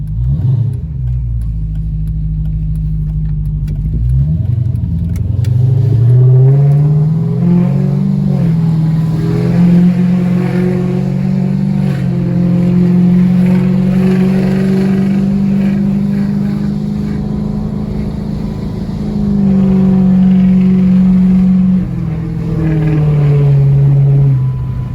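A 2006 Dodge Charger R/T with cam, headers and an SLP Loudmouth catback exhaust revs up and drones steadily while driving, rising and falling in pitch as it accelerates, close by.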